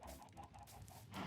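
Chickens clucking in the Minecraft video game, faint repeated short clucks at a steady pace, quiet and alone with no talk over them.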